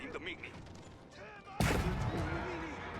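Siege units in a strategy video game fire a heavy booming volley that starts abruptly partway through and rumbles on, following faint game noise and low background chatter.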